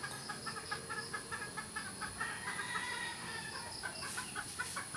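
Hens clucking in short repeated bursts, fairly close, with a rooster-like call briefly standing out near the end.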